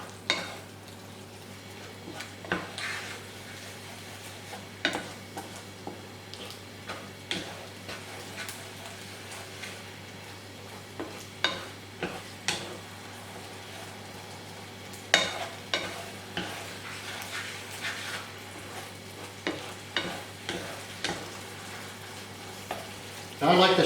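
A spoon stirs beef bouillon into a gravy in a pan with gentle scraping strokes and faint ticking taps against the metal over a low sizzle, close and quiet, with no voices.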